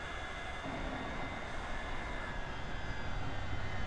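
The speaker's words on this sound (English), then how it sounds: "Kill the engines here." Boeing 727 engines in Microsoft Flight Simulator X drone steadily as they shut down, a broad continuous roar with a faint high whine, holding fairly level across the few seconds with no voices.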